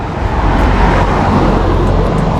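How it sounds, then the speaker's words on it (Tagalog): Road traffic on narrow two-lane Kennon Road on the way to Baguio, a loud, continuous rumble of passing cars and heavier vehicles close by, with no talking. "Grabe pala yung mga sasakyan dito"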